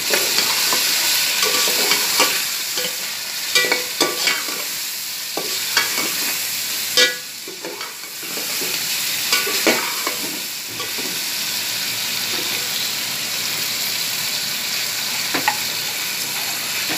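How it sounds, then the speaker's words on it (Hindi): Turmeric frying in hot oil in a pan for chicken and bottle gourd curry, a continuous bright sizzle with frequent spatula scrapes and taps throughout, close and fairly loud with no voices. "ये आधा चम्मच मैं इसमें हल्दी शामिल करूँगी और इसमें फ्राई कर लूँगी मैं इसको"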